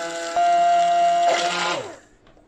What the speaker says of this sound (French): Et maintenant je vais mixer.